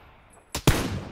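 Two sharp gunshots in PUBG, the second louder with a longer ringing tail, over faint background ambience.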